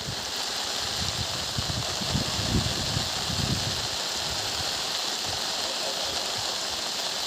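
Steady dense hiss of heavy monsoon rain pouring onto the Kajali river in Ratnagiri, Konkan, constant and close, with a brief low rumble partway through.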